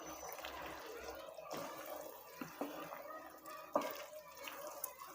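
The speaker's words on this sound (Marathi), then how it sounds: "चला तर यामध्ये आपण 1 कप पाणी घालून घेऊया" Water is poured into a pan of matar paneer, making a faint, uneven splashing trickle with a few soft clunks.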